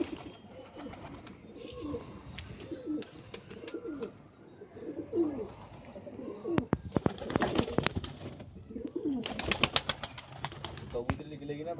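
Pigeons coo repeatedly in low, throaty bursts, with wing flaps and clattering movements close by, and a voice speaks briefly in between.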